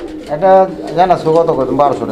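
Pigeons for sale coo loudly and very near, several drawn-out, throaty calls following one another in quick succession.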